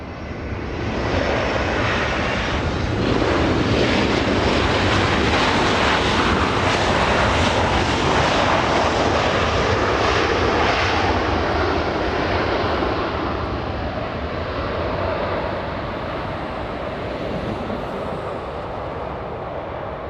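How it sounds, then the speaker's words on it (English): A Delta Boeing 757-200, eighteen years old, arriving at Los Angeles International Airport after a flight from Minneapolis. Its broad, loud jet roar fills the whole stretch, holding steady for most of the time and easing slightly toward the end, with no talk. "Delta 1632 flying in from Minneapolis, 3 hours 16 minutes of flight time, a 757-200"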